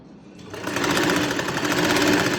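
A sewing machine starts up after a short quiet moment and stitches lace along the folded edge of a dupatta. Its rapid, steady whirring runs close and loud to the end.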